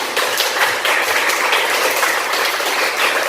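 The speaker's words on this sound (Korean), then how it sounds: "박수." A hall audience applauds at a Korean commemorative lecture, a dense, loud, even wash of clapping hands lasting a few seconds with no voices over it.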